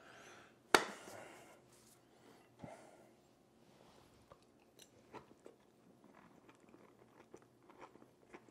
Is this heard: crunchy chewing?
yes